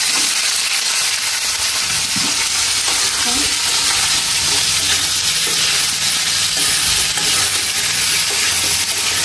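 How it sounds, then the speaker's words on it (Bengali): Onions sautéing in a pan for a home-cooked Chinese dish, giving a steady, loud, dense sizzle with occasional stirring scrapes and no talking. "আমি একটু সতে করে নেব, জাস্ট একটা হালকা ফ্রাই করে নেব।"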